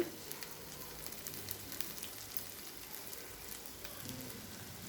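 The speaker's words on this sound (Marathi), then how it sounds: "आता हे थोडंसं परतून घेऊ" Steamed rice is sautéed in a pan over a low gas flame, giving a faint, steady sizzle with soft stirring scrapes throughout.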